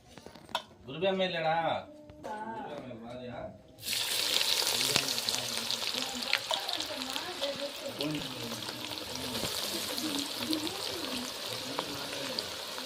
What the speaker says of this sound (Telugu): ఆయిల్ అయితే బాగా విడికింది కదా అందుకోసం బాగా పొంగుతుంది